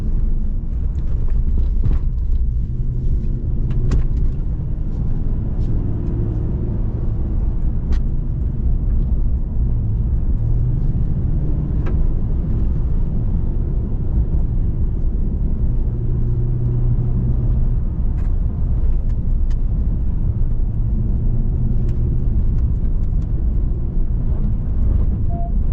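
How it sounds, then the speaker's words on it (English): A 2022 Ram 1500 Rebel GT pickup truck driving off-road gives a steady, loud low rumble of engine and tyres throughout, with scattered bumps and knocks over rough ground and no talking. "I'm just gonna do a little bit of driving"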